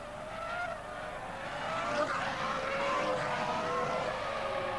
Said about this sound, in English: Massa takes a bit of time and passes Klein too, while Klein's on his back foot